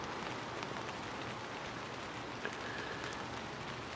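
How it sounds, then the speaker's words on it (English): Steady spring rain in the Bay Area pattering on rows of lettuce, a dense continuous hiss with occasional louder drops, no voices. "Likely the last rain of spring here in the Bay Area, falling on my lettuce crops."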